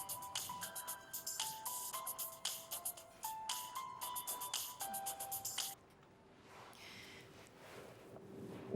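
A phone ringing with a bright repeating electronic melody of short pulsed tones, fairly close and clear, stopping abruptly partway through and leaving quiet room noise.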